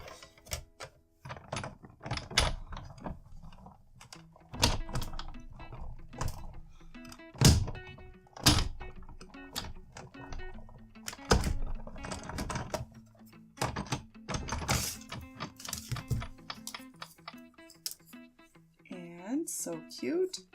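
A die cutting machine cuts cardstock and scrapbooking paper samples, giving repeated close mechanical thunks, clicks and ratcheting clatter in an irregular rhythm.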